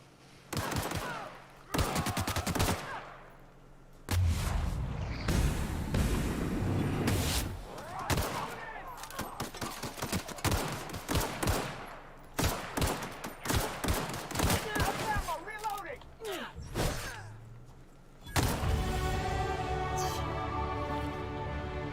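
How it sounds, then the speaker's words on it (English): Bursts of gunfire in The Outer Worlds video game, with rapid volleys and single shots repeating across the whole stretch. Someone talks between and over the shooting. "So I started shooting the guy back there because he had a gun"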